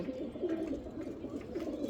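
Racing pigeons kept at a pigeon farm coo together in a dense, continuous murmur of overlapping low throaty calls, steady and close, with no talking.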